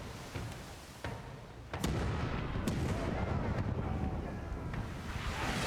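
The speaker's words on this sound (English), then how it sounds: "We're gonna fire cannons. We're gonna swap over to grape shot." Ship cannons firing grape shot in the video game Pillars of Eternity II: Deadfire, with a few dull booms followed by a loud sustained roar of wind and sea noise.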